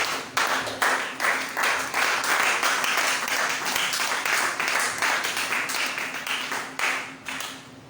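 A church congregation at a French-language service applauds the preacher, sustained dense clapping from many hands filling the room for the full stretch, with a slight fade at the end.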